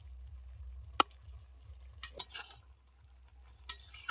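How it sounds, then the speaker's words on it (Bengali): Vegetables being stirred in a pan with a lid, with a few sharp clinks and scrapes of the utensil against the pan, separated by short quiet gaps, while a low rhythmic hum runs underneath. "আবারও ঢাকা দিয়ে ভালোভাবে নেড়ে দিচ্ছি সবজিগুলো"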